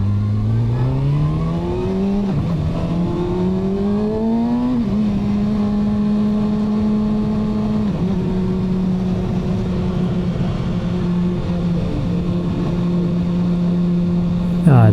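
A motorcycle ridden on the road, picked up close by a head-mounted camera, revs hard and climbs through several gear changes, its engine note rising and dropping with each shift before settling into a steady cruise.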